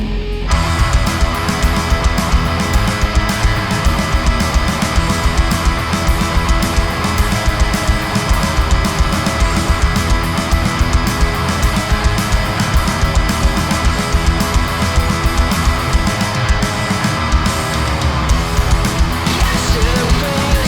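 A cover of a rock song plays as a dense, loud full-band rock recording, steady and unbroken throughout with no talking over it.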